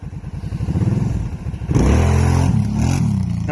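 Kawasaki Brute Force ATV engine revving hard close by, steady throttle at first, then a sharp louder surge that holds high and wavers as it wheelies.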